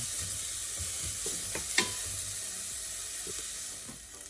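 Shallots softening gently in a pan over low heat, giving a soft continuous hiss of sizzling with a few faint stirring clicks and one brighter tap near the middle.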